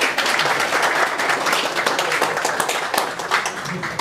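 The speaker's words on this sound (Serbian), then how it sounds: "Da ga pozdravimo jednim aplauzom." At a village association's celebration in Glibovac, an audience applauds an honored 86-year-old citizen with steady, full-bodied clapping that continues throughout.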